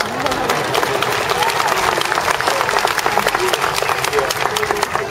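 A crowd at an aquarium sea lion show bursts into loud, sustained applause, with dense clapping and some cheering filling the space for several seconds.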